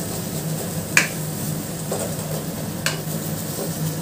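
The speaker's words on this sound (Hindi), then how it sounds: "इसको अच्छे से मिक्स कर लेंगे।" Paneer bharta with paneer masala is stirred in a pan, a low sizzle under three sharp spoon taps against the pan at roughly one-second intervals, close and without talk.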